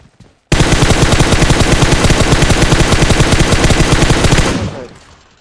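Video game gunfire: one long, loud burst of rapid automatic fire at a steady fast rhythm, lasting about four seconds before cutting off abruptly, with no other sound around it.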